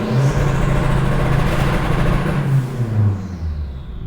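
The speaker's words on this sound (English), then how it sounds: "It's test drive time with no exhaust." Car being test-driven without its exhaust fitted, a loud raw engine drone close by that rises and shifts in pitch as it accelerates, then fades toward the end with no talk.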